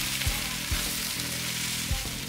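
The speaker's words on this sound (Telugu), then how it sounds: "మూత పెట్టుకొని వేయించుకుందాము, టమాటాలు తొందరగా ఉడుకుతాయి." Chopped tomatoes fry in a covered pan for a raw banana peel chutney, giving a soft continuous sizzle with a few dull thumps of a spoon or lid spaced through it.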